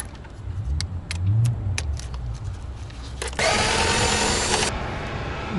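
A Black & Decker power drill whirs in short bursts over a steady mechanical hum while removing an 8mm intake manifold bracket bolt on a Lincoln MKS, followed by a longer, louder sustained run of the tool.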